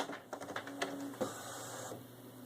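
A Canon inkjet printer runs its mechanism, whirring and clicking with a few rhythmic taps and a brief tonal whine, steady and close, with no voices.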